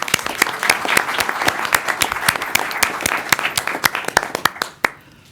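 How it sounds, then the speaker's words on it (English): Audience applause at a youth mock board meeting, steady hand clapping from a modest indoor crowd with sharp individual claps standing out, fading away after about five seconds. "So, round of applause."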